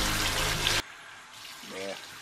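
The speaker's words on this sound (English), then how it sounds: "Just turn them on and let the water run on them." Tap water runs into a sink to rinse a facial cleansing brush: a loud, steady gush that cuts off abruptly, followed by a quieter background with a faint voice.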